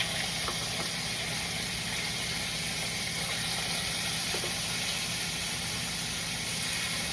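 Lamb chops hiss and sizzle steadily on a hot pan set for grilling, a dense, even frying noise that runs alone without pause, with a few faint clicks on top.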